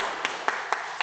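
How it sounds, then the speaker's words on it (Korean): A congregation in a church in Incheon claps for schoolchildren during a Sunday service; four separate claps land at an even, slow pace, faint against a soft hiss of room noise. "박수 쳐주십시오."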